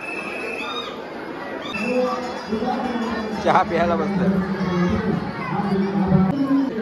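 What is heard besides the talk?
crowd chatter at Kelambadevi temple during Navratri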